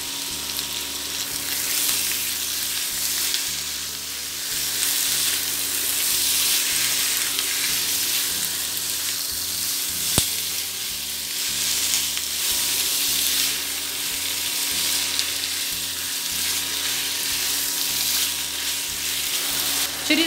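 Pork pieces fry in a pan for goulash, a steady dense sizzle with soft crackle and a faint rhythmic hum beneath, close and continuous.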